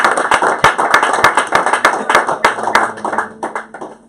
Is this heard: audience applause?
yes